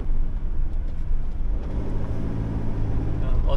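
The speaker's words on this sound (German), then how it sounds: "auf der Straße ist halt auch viel Verkehr" Steady low rumble of passing cars on a busy coastal road in Spain, a continuous engine and tyre drone close by.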